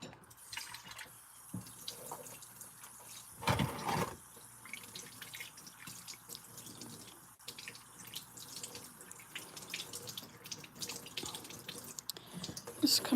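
Tap water runs steadily into a sink at home, a moderate continuous splash with a brief louder gush partway through, plus small drips and clinks of items being rinsed, with no talking.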